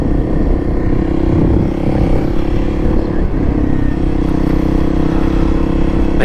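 Kawasaki KLX300SM supermoto motorcycle engine held at steady revs through a wheelie, a loud continuous drone close by with a brief dip near the middle, and no talk over it.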